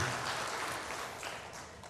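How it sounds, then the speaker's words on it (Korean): A church congregation claps after singing a praise hymn at a worship service, a short, steady wash of applause at moderate distance with no voices over it. "박수하겠습니다."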